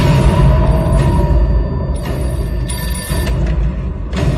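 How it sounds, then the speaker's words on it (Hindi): A telephone rings through a dense, loud movie soundtrack, its tone steady and partly buried under a low rumbling music bed with no voices. "फोन आया था।"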